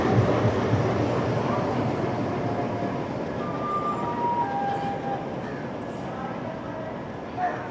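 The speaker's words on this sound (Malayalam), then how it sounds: "അപ്പുറത്തെ സൈഡിൽ ഏതൊരു ട്രെയിൻ പുറപ്പെടുന്നുണ്ട്" A train pulls away on a parallel track at a station near Ahmedabad, a low steady rumble with rail noise that holds fairly constant, while a crow calls faintly in the background.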